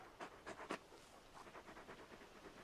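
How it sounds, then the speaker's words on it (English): Torgal, a large dog in Final Fantasy XVI, pants in quick, soft, rhythmic breaths that are close but quiet, with no one speaking over them. "You're just a big puppy, aren't you? A very big puppy."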